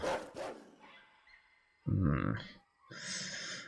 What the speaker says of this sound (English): Oh god, they got pit bulls after him.